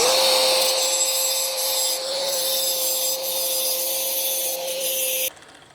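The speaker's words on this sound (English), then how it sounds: "I just have a standard cutoff wheel in the angle grinder." Steady high-pitched whine and gritty hiss of an angle grinder's cutoff wheel cutting metal wire for about five seconds, close and loud, then abruptly stopping.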